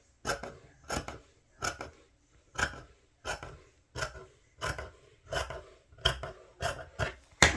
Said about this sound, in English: I'm just going to cut off the little ugly part.